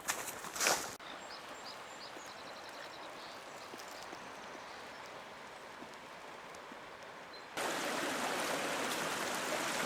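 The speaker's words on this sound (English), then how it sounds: "Now we're at the Cedar Creek" Cedar Creek runs with a steady, close rushing of water along a backpacking trail loop, the flow brightening and growing louder toward the end after a brief clatter at the start.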